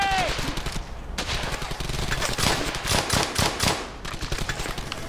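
Rapid automatic gunfire in Brothers in Arms: Hell's Highway, a World War II shooter, with overlapping bursts and sharp individual shots forming a busy, loud battle volley that thins out toward the end.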